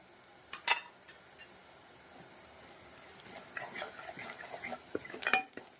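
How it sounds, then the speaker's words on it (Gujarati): Onions roasting with chilli, salt, coriander-cumin and turmeric: quiet sizzling under intermittent spoon scrapes and metallic clinks against a pan, busier stirring toward the end. "ડુંગળીને સરસ મજાની મસાલાના અંદર શેકી લેવાની છે"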